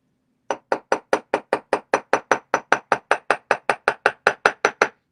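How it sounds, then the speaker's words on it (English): Hammer blows strike jewelry metal to texture it, about twenty sharp metallic taps in a fast, even rhythm. They ring out clearly and close up with no talk, after a brief quiet start. "I'm just trying to texturize it right now and give it that hammer texture."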